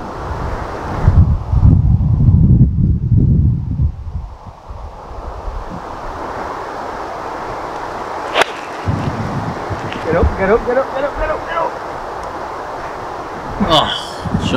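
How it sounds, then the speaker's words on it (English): Strong wind on a hillside golf course buffets the microphone in loud gusts, dying back to a steady rush, with people talking over it. "wind's blowing a lot right"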